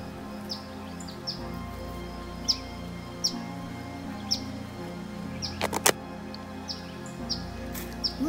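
Eastern Phoebe fledgling chicks call from their nest with faint, high, thin chirps repeating at roughly regular intervals over a soft outdoor background.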